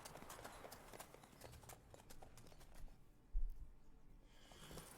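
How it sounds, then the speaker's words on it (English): Horse hooves clip-clop at a steady trot in The Witcher 3, a quick, evenly spaced run of faint hoof strikes that briefly drops away before resuming. "That fucking horse."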